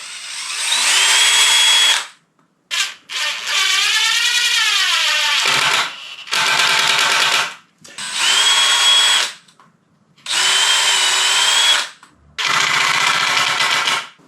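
A power drill drives screws into a warped teardrop camper hatch in five loud, close bursts of whirring with sharp pauses between, the motor pitch rising and sagging as each screw seats.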